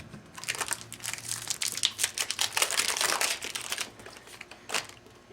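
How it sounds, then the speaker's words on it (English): Magic: The Gathering cards being shuffled into piles make close, crisp bursts of papery riffling and flicking that come in uneven clusters and then trail off. "you shuffle them into 2 massive piles"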